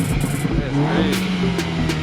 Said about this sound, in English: The Mustang just pulled up right there.